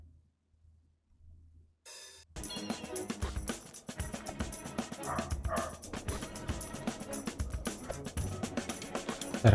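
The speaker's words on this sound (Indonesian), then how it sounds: "kenapa tuh anjing gonggong ya?" A dog barks in the video game Aerial_Knight's Never Yield, a few sharp yips over busy, dense game music and effects that start after a near-silent opening.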